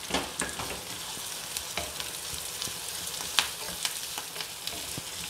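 Small onions and curry leaves fry in oil for a tamarind gravy with banana stem, giving a steady close sizzle with crackling pops and occasional stirring scrapes, no talking.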